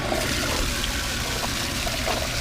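An Intex sand filter spits water during its rinse cycle, a steady loud rushing splash of water that holds without pause from start to end.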